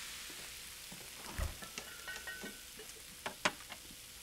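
Small pieces of food fry quietly in a pan as a lone pork chop is prepared for one, a soft steady sizzle with scattered pops and crackles and no talking.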